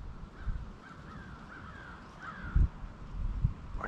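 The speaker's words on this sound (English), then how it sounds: "there's just a lot of crows out here where I live" Crows caw in a rural outdoor setting, their harsh calls coming in a loose series from a moderate distance over soft background noise, with a couple of close thumps or rustles partway through.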